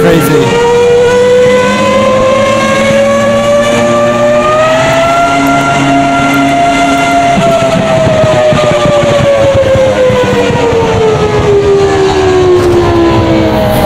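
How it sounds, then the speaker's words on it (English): Race car engine in a VR racing sim game, Automobilista 2 or Assetto Corsa, droning loud and steady with a rising then slowly falling pitch as the car accelerates and eases, without pause. "You can really hear the engine from this camera angle, it's pretty crazy."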